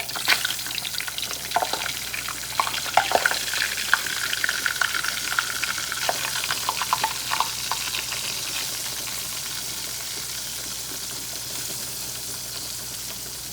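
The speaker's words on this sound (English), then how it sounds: "Alrighty, we'll let them fry on up." Battered oysters fry in hot oil with a steady loud crackling sizzle and scattered pops, near and continuous, louder early on and then settling into an even hiss.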